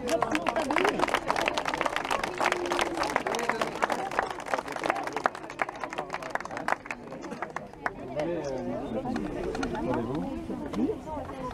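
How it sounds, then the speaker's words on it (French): Outdoor crowd at the inauguration of an esplanade applauding in a dense, lively burst that thins after several seconds into scattered claps and murmuring chatter, with voices talking nearby. "Je crois qu'on peut applaudir."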